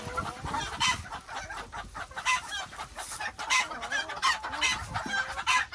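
Several chickens on a farm stay cluck and murmur continuously nearby, their overlapping calls rising and falling in an irregular rhythm.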